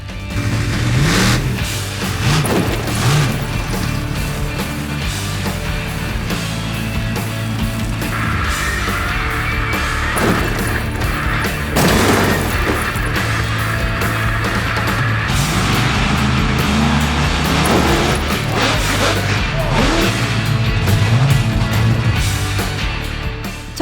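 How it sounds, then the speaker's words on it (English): A homemade monster truck built from lorry and digger parts, with joystick rear steering, runs its engine at a car-crushing event, a loud steady rumble with revving swells throughout. "So who's ready to crush some cars?"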